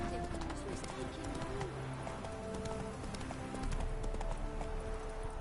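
Roach the horse from The Witcher 3 trotting, a steady rhythmic clip-clop of hooves over ambient outdoor sound with birds, while a voice speaks briefly.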